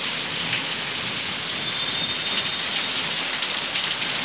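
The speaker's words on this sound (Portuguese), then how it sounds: "Mas os trovão não para não, viu?" Heavy rain pours steadily in a continuous hiss during a hot-weather storm, with water running off a roof spout, thunder rumbling faintly underneath, and no voices.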